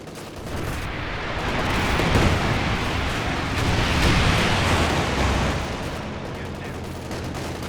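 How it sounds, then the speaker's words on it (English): IL-2 Sturmovik rocket run in Company of Heroes 2 striking near a Panzer IV tank, a dense rolling barrage of overlapping explosions swelling and fading over several seconds, loud and continuous. "now we're going to test the IL-2 Sturmovik rocket run"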